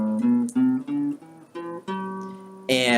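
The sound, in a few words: music played in G Mixolydian mode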